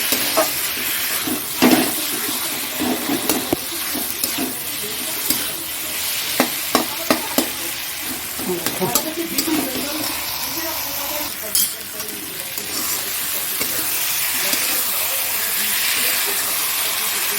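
Chicken is stirred and sautéed in a pan for chicken kosha, a continuous sizzle broken by repeated scraping strokes and occasional clinks of the spoon against the pan, close up, with faint talk in places.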